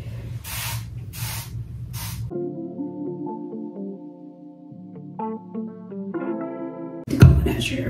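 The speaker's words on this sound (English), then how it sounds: "First, I'll take my spray bottle." A handheld spray bottle of water misting onto hair, three quick close hissing sprays at the start before the sound gives way to music and other noise.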